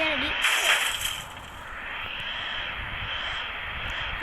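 A drone flies overhead in a video game, a steady high mechanical whir holding through the clip after a brief louder burst at the start, with faint background game noise beneath.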